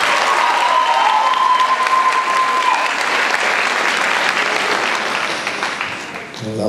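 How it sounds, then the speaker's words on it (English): Sustained applause from a choral concert audience honoring the head instructor, a dense, steady wash of many hands that holds loud for several seconds and then tapers slightly near the end. "Give a round of applause for her,"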